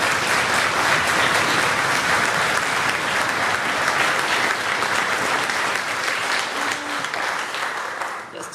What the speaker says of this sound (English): Let's hear clapping hands and stomping feet for Louise Blanc